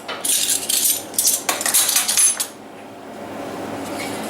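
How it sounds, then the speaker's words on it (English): A spoon clatters and scrapes against a bowl while mixing a very stiff, thick dough with baking soda and salt, in quick irregular bursts over the first couple of seconds, then a quiet hiss. No one talks. "Just want to mix all this together."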